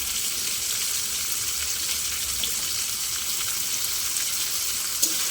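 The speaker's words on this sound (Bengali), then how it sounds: "ব্রোকলিটাও দিয়ে একটু ভালো করে নেড়ে চেড়ে দেবো" Fried rice with broccoli, cashews and raisins hisses in a pan, a steady, dense sizzle holding even throughout with barely any distinct stirring strokes and one faint clink near the end.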